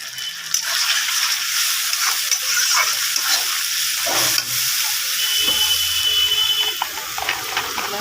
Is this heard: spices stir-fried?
yes